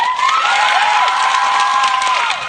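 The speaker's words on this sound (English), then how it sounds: "And she got applause" An audience applauds and cheers after a speech promising a safe space and no room for hate, with a steady, dense wash of clapping, shouts and whistles throughout.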